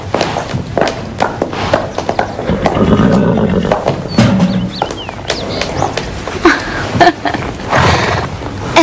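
A horse whinnies among hoof movement and busy animated-series background sounds, loud and close, with no clear speech over it.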